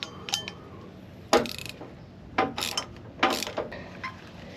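Metal clicks and ratcheting clanks from a wrench working a bolt loose on a boat trailer winch while its strap is changed, several short bursts spaced a second or so apart, close and fairly quiet.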